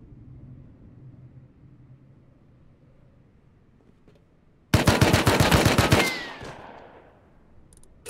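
Gunfire in the video game Rust: after a quiet, low ambient stretch, one sudden loud burst of rapid automatic shots for about a second, echoing and fading into a ringing tail.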